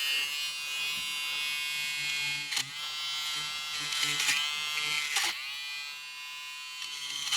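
A small battery-powered electric shaver trims stitching on the seat fabric of a Honda Civic Type R FN2, a steady close buzz that briefly dips twice while someone talks over it.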